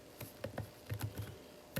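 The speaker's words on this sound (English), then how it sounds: "So I'm going to type in the word addition" Typing on a computer keyboard to enter a word into a text box in Keynote: a quick, close, soft run of about eight key clicks with no talking.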